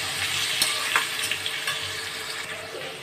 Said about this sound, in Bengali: আলুটাকে একটু হালকা লাল লাল করে ভেজে নেবো